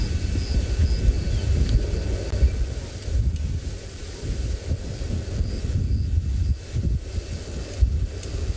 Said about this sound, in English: See the wind howling.